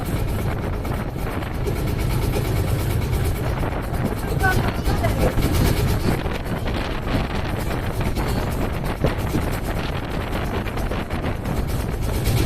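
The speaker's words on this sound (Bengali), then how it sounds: "নৌকাতে আমরা ঘুরতেছি" A boat ride on the Jamuna river, with a continuous roar of wind buffeting the microphone over low engine and water noise, loud and unbroken throughout.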